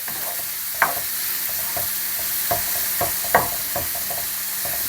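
Kimchi sizzles steadily in a hot pan while a utensil stirs and scrapes it in several distinct strokes.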